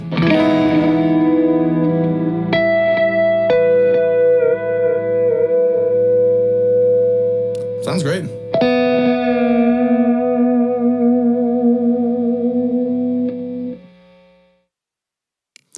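Sustained electric guitar notes ring out through a Keeley Realizer Reverberator pedal with long reverb and echoing delay repeats up to 500 milliseconds, swelling and trailing off; a voice speaks briefly.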